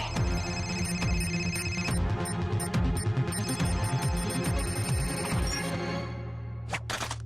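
Telephone ringing in a Hindi-dubbed animated episode, a rapid repeating electronic bell ring in quick bursts, fairly loud, then fading out near the end.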